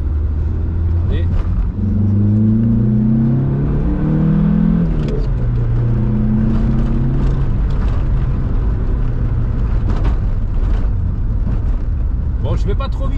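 A Volkswagen Golf 2 GTI with a non-turbo engine revs hard on the move, its loud, close engine note climbing in pitch through the gears and holding strong over steady road rumble.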